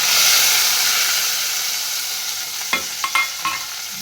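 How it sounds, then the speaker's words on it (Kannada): Chopped tomatoes fry in oil with garlic in a pan, a steady loud sizzle and hiss, with a few brief clinks of stirring near the end. "ಈ ಟೊಮಾಟೊ ಹಣ್ಣನ್ನು ಸಣ್ಣ ಕಟ್ ಮಾಡಿದ್ದನ್ನ ಅದನ್ನ ಹಾಕೊಂಡ್ಬಿಡ್ತೀನಿ ರೀ ಎಣ್ಣೆ"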